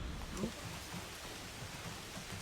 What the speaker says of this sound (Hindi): आज सुबह से तो बहुत भयंकर बारिश हो रही है।